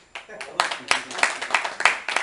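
Scattered clapping from an audience at a public talk, a handful of sharp claps spaced unevenly over a couple of seconds, fairly close, with a voice speaking over them.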